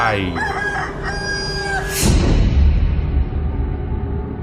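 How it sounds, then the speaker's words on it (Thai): A rooster crows loudly with a long, drawn-out call over steady background noise, followed by a rushing swell of noise. "ต้องหวาดกลัวเสียงไก่ขันอีกต่อไป"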